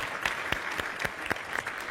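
Studio audience applause during an Armenian television game show, a steady wash of hand claps with several sharper bursts, fairly close and alone with no talk.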